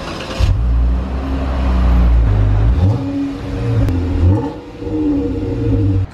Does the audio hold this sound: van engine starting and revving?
yes